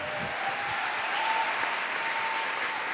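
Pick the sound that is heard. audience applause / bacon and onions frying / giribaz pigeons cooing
audience applause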